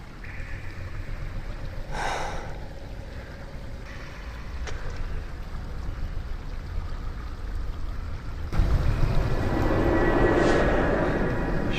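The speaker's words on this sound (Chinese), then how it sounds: "是水声。" Underground river water running through a jungle cave in a tomb-raiding thriller: a steady, low wash of flowing water that swells louder and fuller toward the end, with no talk over it.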